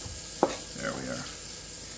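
Bacon sizzling in a pot while being stirred for a creamy corn chowder, a soft steady crackle with a sharp clink of the spoon against the pot and a scraping stir after it.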